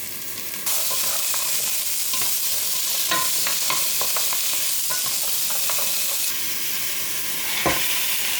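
Garlic pulp sizzling and frying in a hot pan, with steady loud crackling and occasional stirring clicks throughout, close up with no talk.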